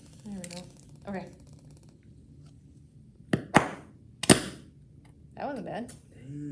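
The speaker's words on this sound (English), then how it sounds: "So we heard that little tiny pop explosion." Hydrogen gas ignites from a pipette bulb in a classroom gas test, giving a couple of sharp, small pops, with brief voices talking before and after.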